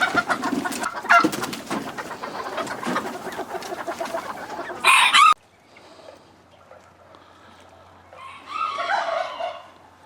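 Serama chickens cluck and call in their pen, a busy overlapping flock sound that is loud at first, then drops away to quieter scattered clucks and a renewed burst near the end.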